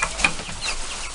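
Chickens being moved to a new coop cluck and squawk in short, close bursts over a second, with a soft flutter of wings mixed in.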